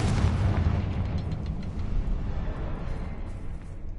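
A Confringo spell blast in Hogwarts Legacy erupts loud and close, then its deep rumbling boom slowly fades over several seconds.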